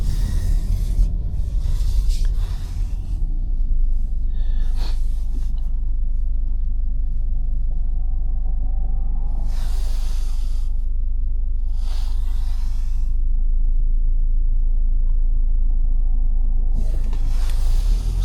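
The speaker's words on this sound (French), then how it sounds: "Le bruit de CVT, encore une fois." 2026 Subaru Crosstrek Onyx with a CVT and engine, heard from inside the cabin on ice as a constant low droning rumble, with scraping and rubbing textures rising and falling over it.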